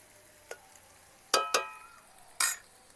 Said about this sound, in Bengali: এটা কিছু সময় ভাজার পর ডিমগুলো একদম আলাদা আলাদা হয়ে যাবে